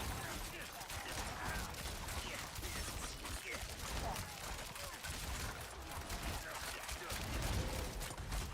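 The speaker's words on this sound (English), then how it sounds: "the sound of the shadow explosions sound like really cool" Shadow imbue explosions from a Heartseeker Rogue build in an action video game, a dense, continuous barrage of crackling blasts and rapid bursts with no pause.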